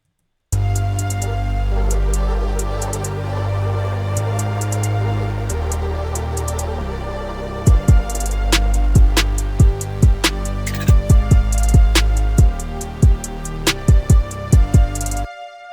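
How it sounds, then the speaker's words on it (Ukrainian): A beat plays a dense synth bed, then sharp drum hits and irregular, off-grid hi-hats enter about halfway through and repeat to the end, with no talking. "Тут у нас починає вступати драмка, вступають перші хай-хети, які грають не прямий ритм"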